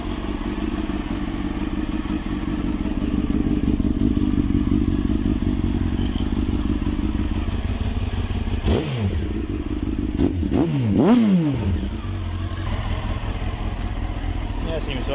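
A Honda CBR929RR Fireblade track bike idles close by with a steady, throbbing rumble, briefly revving up and down twice near the end.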